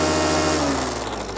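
A paramotor engine with a repaired, welded exhaust runs at a steady idle. Its drone is loud and continuous, with no speech, and eases off slightly toward the end.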